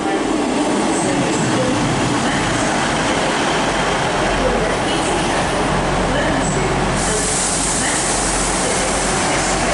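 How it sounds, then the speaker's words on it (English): An East Midlands Class 158 passenger train, unit 158774 on the Norwich to Liverpool Lime Street service, rolls into Stockport on the West Coast Main Line with a loud continuous rumble and wheel noise, plus a brief higher squeal late on. "12:25 East Midlands train service from Norwich to Liverpool Lime Street"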